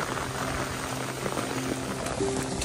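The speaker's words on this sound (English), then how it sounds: "cold and rainy." Cold rain pattering steadily on an umbrella and a wet trail along the Appalachian Trail, a dense constant hiss with small drip taps, close and even throughout.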